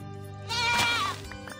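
A goat in Minecraft gives a single wavering, nasal bleat as it is hit, loud and close, with no speech over it.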